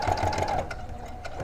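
Sewing machine stitching fabric at a faster speed, a quick, rapid mechanical whir and clatter of the needle, steady at first and then easing off, close and alone.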